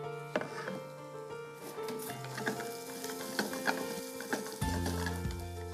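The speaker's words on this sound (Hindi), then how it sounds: "ये मिर्ची और गार्लिक का पेस्ट धीरे धीरे भूनना है इसको" Chili and garlic paste frying slowly in a pan on a Hindi TV cooking show, a gentle sizzle with spoon stirring and scraping, soft and close, alongside faint background music.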